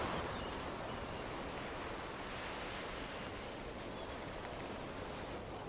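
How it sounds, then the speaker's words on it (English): Steady rain falls near a pier in a video game, with a soft continuous hiss of drops and gentle water lapping underneath, no one talking. "isn't that just so pretty out when it's raining? You can just hear the lapping of the waves"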